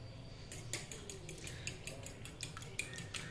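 Chicken burger filling being mixed in a bowl after a pinch of salt goes in, utensil clinking and scraping against the dish in quick repeated taps, close and fairly quiet, with no talking.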